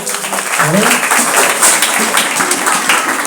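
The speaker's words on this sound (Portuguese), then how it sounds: "Palmas para a irmã Mara." A church congregation at an Adventist evangelism meeting in Santa Izabel do Pará applauds for Sister Mara: a steady, dense wash of clapping across the clip with voices mixed in.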